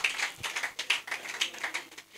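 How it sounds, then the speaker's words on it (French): Audience applause at a French comedy stand-up show, a dense, steady burst of many hands clapping together in a live room, fairly loud and continuous for a couple of seconds without speech. "On applaudit ensemble, s'il vous plaît."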